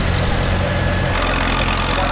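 Chamberlain 9G vintage tractor engine working hard during a tractor pull, a loud, steady low rumble that holds close and continuous throughout with no pause.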